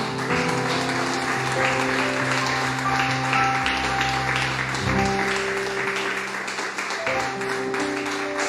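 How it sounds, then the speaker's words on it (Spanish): Church congregation applauds the Lord after a prayer, sustained crowd clapping with held tones from music or voices running underneath, steady and fairly loud throughout. "Dale un aplauso al Señor, hermano"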